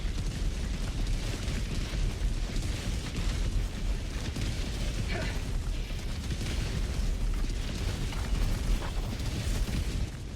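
Grenade blasts in Helldivers 2 with continuous rumbling explosions and battle noise, a thick, steady wash of low booms throughout.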